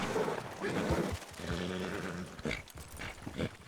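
A horse in the WildRP roleplay game, set in a western world, gives snorting, neighing calls and shuffles close by, with a voice speaking over parts of it.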